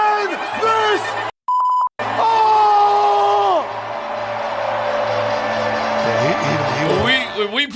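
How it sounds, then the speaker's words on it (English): A single steady censor bleep tone cuts in for about half a second amid loud, shouting crowd voices and arena noise at a basketball game against the Pacers. "When we put in the beeps"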